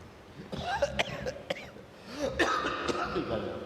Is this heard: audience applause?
no